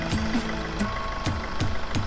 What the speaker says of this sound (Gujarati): એન્જિન એકદમ સાયલેન્ટ કન્ડિશનમાં એન્જિન છે.